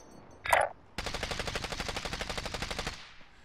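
Video game gunfire: a short burst of rapid automatic shots, loud and close and evenly spaced for about two seconds, after a brief game chime.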